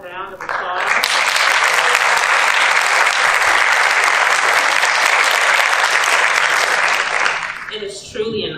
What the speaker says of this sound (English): Our students one more round of applause.